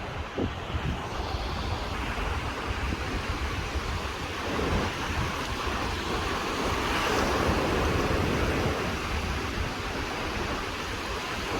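Strong wind buffets the microphone over the continuous roar of ocean surf breaking at a beach, a steady dense wash of noise with no voices.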